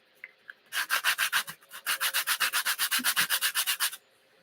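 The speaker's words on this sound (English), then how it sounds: "I'm gonna get a sanding block over here. And I'm just gonna kind of sand this down just a hair." A sanding block scuffs a dollar store craft piece in quick back-and-forth strokes, about twenty rhythmic rasping passes in two runs with a short pause between, close and fairly loud with no voices.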